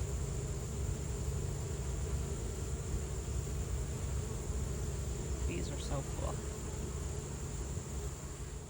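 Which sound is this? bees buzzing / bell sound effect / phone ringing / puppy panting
bees buzzing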